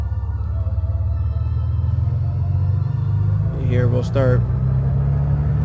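Steady low engine rumble of a Carenado M20R Ovation piston aircraft taxiing in Microsoft Flight Simulator 2020, droning continuously and loud while someone talks briefly over it.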